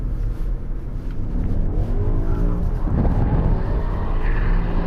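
BMW M5 engine revving hard while the car slides around a track, a loud continuous roar with a swelling rise in the middle and steady drone throughout, no talk over it.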